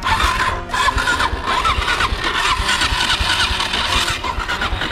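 A motorcycle engine cranks and catches, running loud and close with a rough, uneven idle throughout.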